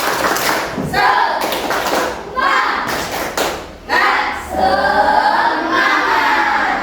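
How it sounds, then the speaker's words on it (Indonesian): Classroom group doing the tepuk semangat clapping routine, an ice-breaking chant: bursts of rhythmic hand claps and thumps from many children in short sections, with voices chanting along between the beats. "ayo kita melakukan ice breaking tepuk semangat"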